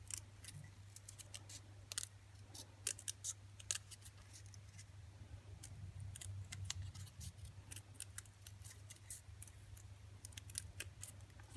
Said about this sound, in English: so that it's easier to go ahead and cut all the way around